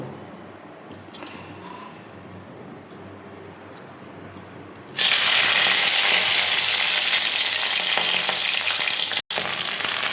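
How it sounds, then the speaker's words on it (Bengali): Okra hitting hot oil in a pan, a loud, steady broadband sizzle that bursts in halfway through after a quieter kitchen background and holds until a brief cutoff near the end. "ভিন্ডিগুলো দিয়ে দিয়েছি গরম তেলে।"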